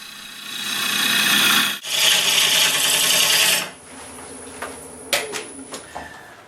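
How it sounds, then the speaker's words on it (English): A wood lathe cuts green urban lumber into long shavings, a loud steady broadband hiss that breaks off briefly, surges again, then drops to a quieter hum dotted with a few sharp ticks. "turning wood when it's green is simply a lot of fun"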